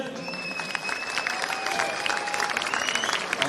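Steady, dense applause from an audience after a wrestling victory won by a choke hold, continuous and moderately loud, with faint cheers and whistles mixed in.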